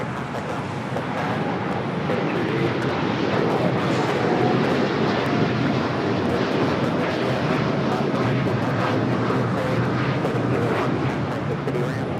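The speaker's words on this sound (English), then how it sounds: "That was Japan Airlines Flight 61 taking off to Tokyo Narita" A Japan Airlines Boeing 787-9 Dreamliner in oneworld livery takes off, bound for Tokyo Narita. Its jet engines thunder as a dense, steady roar heard from the airfield's edge, with a voice talking faintly beneath it.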